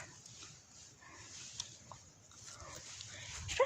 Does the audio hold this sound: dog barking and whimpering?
yes